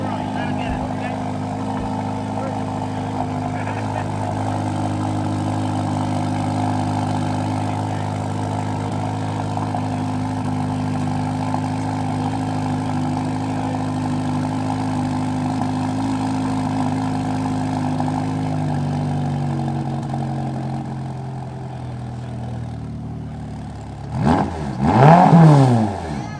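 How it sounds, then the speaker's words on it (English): A Ferrari Roma V8 holds a steady, loud idle with layered low harmonics, then settles and gives a couple of sharp revs near the end. Faint voices sit under the engine. "It's an 8-cylinder Ferrari."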